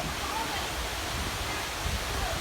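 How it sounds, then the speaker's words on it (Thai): A waterfall in Helsingborg roars as a steady, loud broadband rush of falling water throughout, with no distinct breaks. "น้ำตกสวยมาก"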